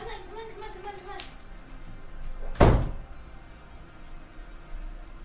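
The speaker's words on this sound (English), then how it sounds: "Close the door." A door closes with a single solid thump partway through, louder than everything around it, after a voice speaks earlier on.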